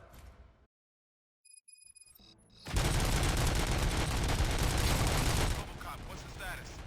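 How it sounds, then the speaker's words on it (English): Gunfire in the Robocop: Rogue City video game, a loud, dense burst of rapid shots and crackling blasts that keeps up for several seconds after a brief silence, then eases into lower rumble. "Gunshots? What's going on?"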